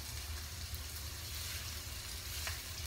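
A meat chop sizzles steadily in a hot frying pan, a continuous frying hiss with no talk, close and even throughout.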